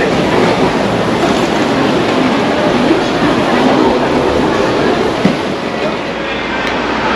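A subway train roars through an underground station in Osaka, Japan, a dense steady rumble with rail noise and a faint clatter, loud and close throughout.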